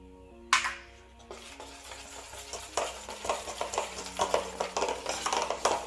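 Marble cake batter being mixed with vanilla essence, a spoon or whisk scraping and knocking against the bowl in irregular strokes, close and moderately quiet with faint music underneath.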